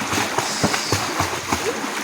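Repeated splashes from people jumping into the sea at Mahayahay Beach in Argao, with short watery bursts over steady surf and background chatter.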